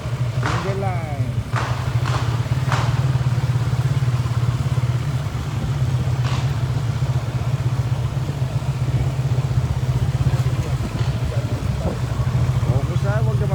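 A big bike motorcycle engine runs steadily through a training session, a constant loud drone with a low throb that never cuts out, while brief voices call out over it.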